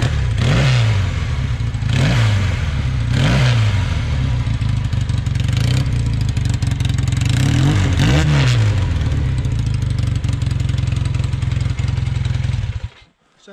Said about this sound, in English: Let's see what she sounds like.